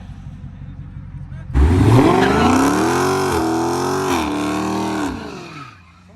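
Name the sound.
Dodge Scat Pack car sliding with tires squealing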